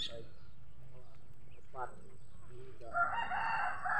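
Chickens on a farm with a rooster crowing loudly near the end, softer clucks earlier, while people talk throughout.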